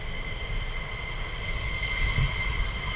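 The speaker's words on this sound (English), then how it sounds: "And as you can hear, the engines are whirling up." Military jet engines spooling up at RAF Lakenheath, a steady distant roar with a sustained high whine over low rumble, even in loudness for a few seconds with no voices.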